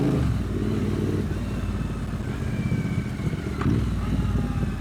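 A Triumph Bonneville T120 parallel-twin motorcycle engine gives a short blip of revs while downshifting into first, a steady throaty rumble close by with a brief rise near the end and no talking.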